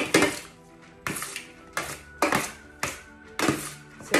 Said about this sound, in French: Là, je vais bien mélanger le tout.